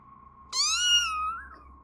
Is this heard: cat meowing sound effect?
yes